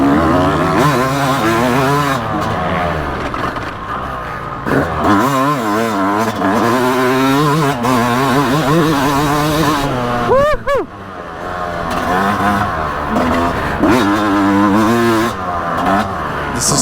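A 2022 Yamaha YZ250 dirt bike engine, heard while riding, revs loud and close, with its pitch repeatedly rising and falling as the throttle opens and closes. The rider shifts through gears with hard accelerations and short drops.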